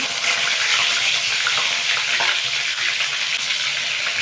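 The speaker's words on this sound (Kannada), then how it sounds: "ಸಾಸಿವೆ ಪಟ್ಪಟ್ ಅಂತ ಇದೆ. ಬೆಳ್ಳುಳ್ಳಿ ಹಾಕೋಣ." Mustard seeds and garlic fry in hot oil for a simple tomato gojju, a dense continuous crackling sizzle close by, steady throughout with no voices.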